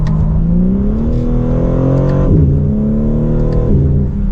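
A 2024 BMW M3 CS engine and exhaust rev up with rising pitch, drop briefly at gear changes, then climb again, loud and close throughout.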